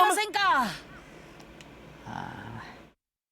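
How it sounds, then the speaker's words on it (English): A lone crow caws in the Famicom Detective Club video game, a sharp, loud, descending call at the start followed by a quieter trailing caw. A voice speaks afterward. "In the distance, you hear a lone crow."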